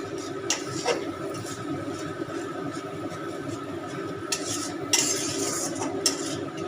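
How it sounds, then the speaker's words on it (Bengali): Ground spices are stirred and fried in hot oil for a catla fish muithya dish: a steady, close scraping and stirring with a low sizzle, and a few louder metallic scrapes of the utensil against the pan. "মশলাগুটা দিয়ে দিচ্ছি তেলের ওপরে এবার আমি মশলাটাকে কষাবো ভালো করে"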